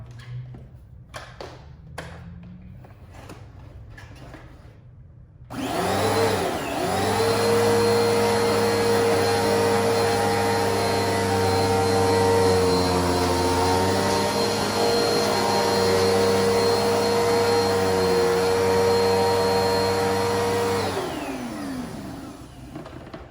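A vacuum cleaner starts up after a few quiet taps and runs steadily on a hard floor scattered with flour, with a loud, droning motor hum, then begins to wind down near the end.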